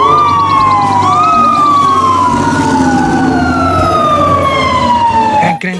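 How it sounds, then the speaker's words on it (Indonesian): A toy fire truck plays a loud electronic siren that wails up and down in steady sweeping tones, very close and continuous, then cuts off abruptly at the end. "ternyata mobil pemadam kebakaran teman-teman"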